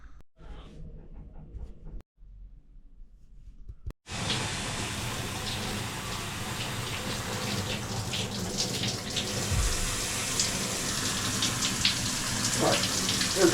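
A hotel shower in a Travellodge sprays water in a steady, loud hiss that starts abruptly after a few seconds of quiet trickling and then runs continuously close by.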